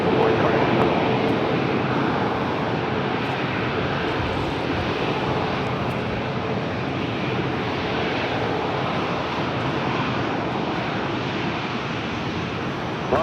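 A Sun Country airliner lands on runway 25 left at LAX, its jet engines making a loud, steady, broad roar that holds for the whole stretch, with no voices heard.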